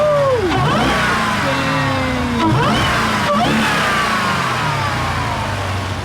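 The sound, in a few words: 2018 Jeep Trackhawk supercharged engine revving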